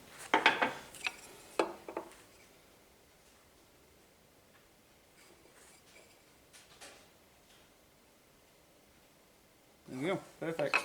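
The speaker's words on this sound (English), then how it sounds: "you can just feel the movement in the knife as you tap" A metal planer knife tapped into a jointer cutter block, with quick clusters of light metallic taps at the start and again near the end, separated by a long quiet stretch with faint handling.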